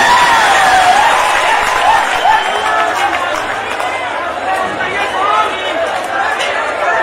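A crowd claps and cheers at a Bhojpuri stage show, producing a dense, steady wash of applause. A loud voice talks over it on a microphone throughout.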